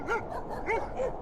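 A dog barks three or four times in quick, yappy bursts, fairly close, with no one talking.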